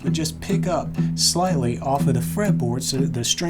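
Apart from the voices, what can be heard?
None of the usual background noises is heard.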